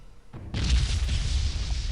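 A patch of dirt explodes in a tabletop game: a sudden loud boom after a short quiet lead-in, followed by a sustained heavy rumble of debris and grass flying, with no talking.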